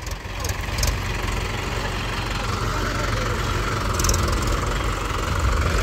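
Mahindra 575 and 585 tractor engines idling, a steady low diesel rumble with a knocking pulse, close and loud throughout, with a few faint background sounds.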